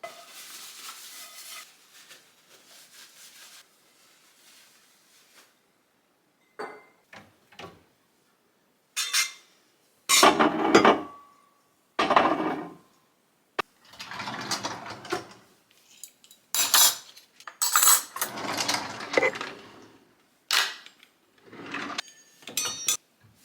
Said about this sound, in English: Got all my clean dishes put away, so now let's wash the dirty ones.